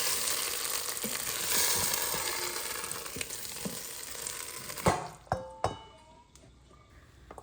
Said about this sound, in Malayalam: കടുകും വറ്റൽമുളകും കറിവേപ്പിലയും തേങ്ങയും കൂടെ വറുത്തിട്ട്